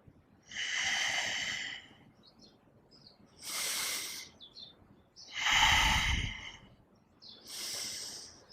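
Close, loud yoga breaths, four long airy rushes: an inhale, then an exhale, repeated twice with short quiet gaps between them. The third breath is the heaviest and adds a deep rumble.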